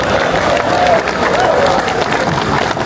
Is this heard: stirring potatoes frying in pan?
no